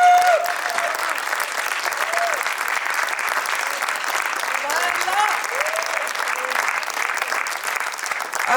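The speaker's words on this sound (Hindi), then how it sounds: "तालियों की झंझनाहट कम नहीं होनी चाहिए इनके लिए।" Applause from a theatre audience after a stage play performance fills the auditorium, a dense, steady wash of clapping that holds at an even level throughout, with faint voices mixed in.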